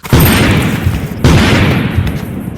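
Firecrackers go off in two loud, close bursts, each a sharp boom followed by a decaying crackle and rumble.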